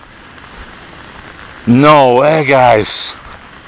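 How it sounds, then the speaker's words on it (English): Rain falls outdoors as a group heads toward a police station, a steady soft hiss running throughout while someone speaks briefly over it. "Rain starts to fall as we head straight toward Mole Police Station."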